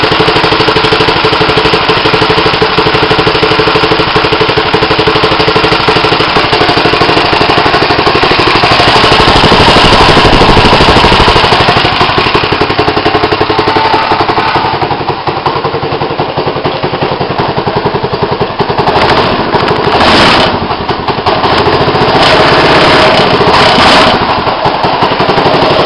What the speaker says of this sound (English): That's the cold start of the go-kart.